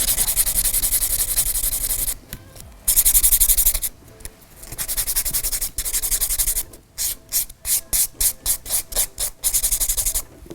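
Close, loud rasping strokes of a buffing block worked across a fingernail, starting as long continuous rubs and then breaking into a quick series of short, rhythmic back-and-forth passes, with no voices.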